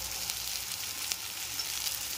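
Cumin, mustard seeds, curry leaves, green chili, onion and tomato sautéing in oil in a pan for poha, a soft, steady, close sizzle with small crackles and no talking.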